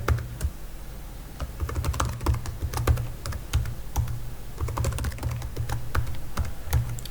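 Someone types a password on a computer keyboard, a close, busy run of quick key clicks with uneven rhythm, short pauses and occasional heavier taps.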